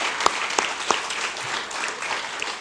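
Brief round of audience applause for honorees at an Irish celebration, a steady wash of clapping from a gathered crowd with a few sharper nearby claps standing out.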